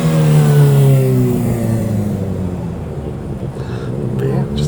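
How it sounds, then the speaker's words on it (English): Motor vehicles pass along a street near a beach, a loud engine roar that falls in pitch as it moves away and fades into a lower rumble of traffic. "Motorcycles."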